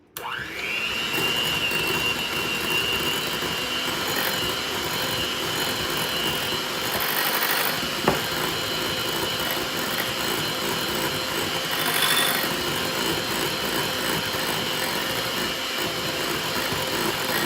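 An electric hand mixer beats room-temperature cream cheese and mayo in a steady, loud, continuous whir with a slight pitch shift as it starts. The motor runs unbroken for the whole stretch.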